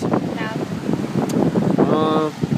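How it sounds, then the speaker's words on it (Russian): Wind gusts buffet the microphone outdoors in the Maldives, where palm trees sway, giving a constant rough rumble, with people talking briefly over it. "Вот как колыхаются от ветра пальмы."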